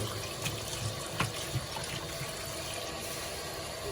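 Blanched pork bones are rinsed under a running kitchen tap, a soft continuous stream of water with a few faint splashes and knocks, quiet and alone.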